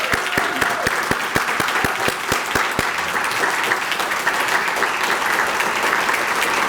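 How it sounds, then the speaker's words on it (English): Audience at a chamber of commerce lunch applauds young professional award honorees, a dense, loud, sustained round of clapping with distinct claps standing out early before blending into an even wash. "we promise to give you the loudest round of applause we can put together"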